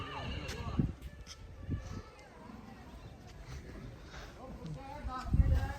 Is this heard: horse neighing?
yes